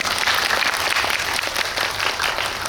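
Audience applause at a movie talk event for the film Confidential Assignment 2: International at COEX, a loud, dense and continuous burst of clapping from a packed crowd that holds steady throughout.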